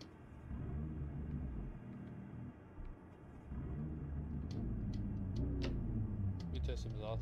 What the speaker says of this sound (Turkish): Aracımızı çalıştıralım.